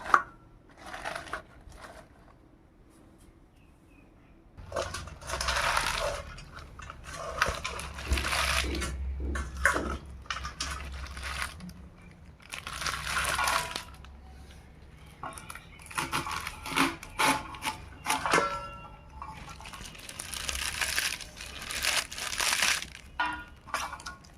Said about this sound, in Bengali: এখানে শাকগুলোকে খুব ছোট ছোট করে কেটে নেব